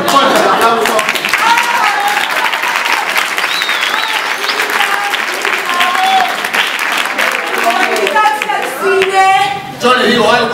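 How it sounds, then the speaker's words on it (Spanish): Applause from a television studio audience, dense steady clapping that fills the whole stretch at close, loud level, with a few voices calling out near the end. "Fuerte el aplauso."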